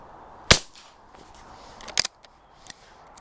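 A 9mm garden shotgun fires one sharp, loud shot, followed a moment later by a couple of quieter clicks and knocks from the gun being handled, with no talking.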